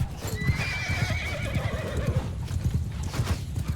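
Horses in the video game Mount & Blade II Bannerlord whinny and neigh loudly over a dense, continuous clatter of hooves, with battle din filling the background throughout.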